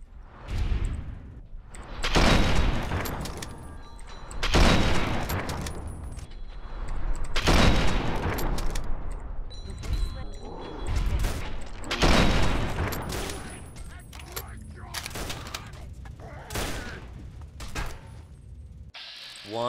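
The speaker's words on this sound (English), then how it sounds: "Might want to use a hunting rifle now." Gunfire in the video game Fallout 3, spaced heavy shots from a hunting rifle and other weapons booming every couple of seconds, each with a long rumbling tail, loud and near.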